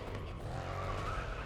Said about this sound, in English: I'm making this engine roar.